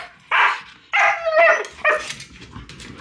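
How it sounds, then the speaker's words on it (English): A husky barks three times in quick, loud, close bursts, with softer whimpering and yipping between them and no talking. "What's with the bark?"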